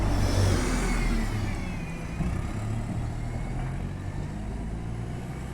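A bus on a village road in Rochdale rumbles past close by, its engine drone loud and steady with a swelling whoosh early on that slowly fades, with no talking.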